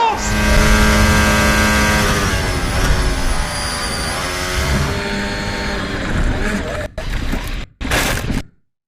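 Formula 1 cars scream along the track in a race, a loud sustained high-revving engine whine that shifts pitch as they pass, then cuts into brief bursts before falling silent.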